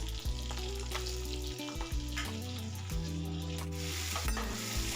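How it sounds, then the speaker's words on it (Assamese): Garlic and green chili fry in oil, sizzling steadily in a hot pan as a spatula stirs and scrapes, with low droning hum underneath and no talking. "এতিয়া মই এইখিনি ভাজি ল'ম ভালদৰে।"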